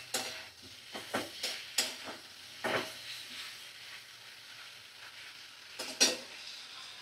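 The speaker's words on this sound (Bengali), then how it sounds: "বেশ ভালো মতো লাল করে ভাজা হয়ে গেছে" Vegetables for a vegetarian dish sizzle quietly in a pan, broken by a series of soft spatula scrapes and stirs, close and fairly faint, with no voices.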